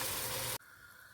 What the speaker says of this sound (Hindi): अब मैं इसमें ये गरम पानी डाल दूँगी